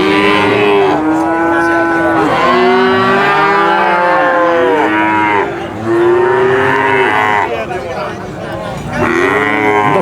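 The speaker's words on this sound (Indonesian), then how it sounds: "ini tuh suasana di hari Jumat Pon, pasar sapi Pon Purwantoro Wonogiri." Cattle moo loudly and repeatedly at a busy cattle market in Purwantoro, Wonogiri, with several overlapping drawn-out calls close by over a constant crowd hum.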